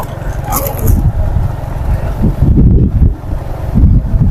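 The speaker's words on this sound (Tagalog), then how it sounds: "Sobrang lakas ng impact ng hangin." Strong wind at a waterfall buffets the microphone in heavy, steady low rumbling gusts that swell and ease, loud and close throughout.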